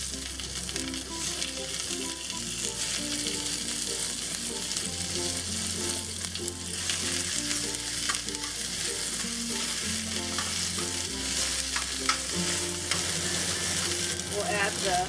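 Garlic and Malabar spinach stems stir-fry in a generous amount of oil in a pan on medium-high heat, giving a steady sizzle throughout beneath loud background music.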